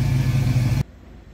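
The electric power convertible top of a 1968 Pontiac Firebird with black vinyl raises under a loud, steady motor hum, which then stops abruptly.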